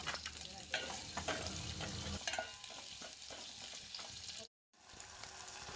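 Carrots and tomatoes for pasta are stirred in a hot pan, a close, busy sizzle mixed with repeated scraping of the spoon, briefly cutting out before resuming; no one speaks.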